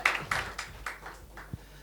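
A few scattered hand claps from the audience at a speech competition prize presentation, sharp and separate at first, then thinning out and fading to a last isolated clap.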